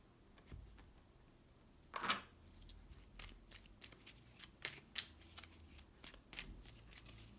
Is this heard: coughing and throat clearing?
no